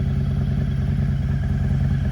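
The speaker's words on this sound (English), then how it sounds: "we're gonna let Southern Throttle take it for the first little trip" A motorcycle engine rumbles steadily and loudly close by as the bike is ready to set off on a first test ride, with a low, even chug and some mechanical clatter.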